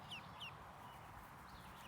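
Chickens cluck softly a few times in a farmyard shared with ducks, short faint calls over steady low background noise.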